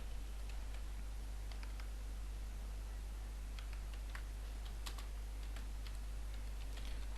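Someone types text on a computer keyboard while working in Photoshop. Light, uneven key taps come in short bursts over a low, steady hum in a quiet room, with no talking.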